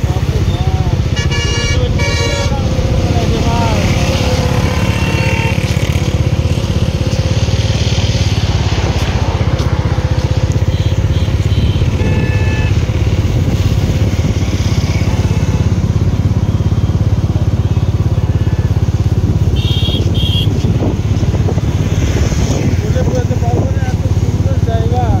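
Motorcycle ride on the road from Varanasi toward Prayagraj during the Maha Kumbh, engine drone and wind rumble loud and steady throughout, with occasional horn toots and a rider talking over the noise.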